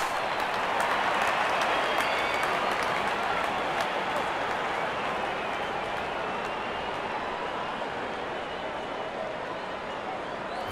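A stadium crowd at an India versus Afghanistan T20 World Cup cricket match in 2012 makes a dense, continuous roar of cheering that holds loud and steady throughout, easing only slightly toward the end.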